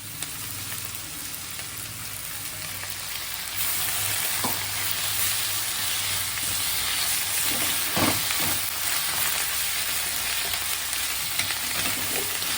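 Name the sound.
frying drumstick leaves with onion in a pan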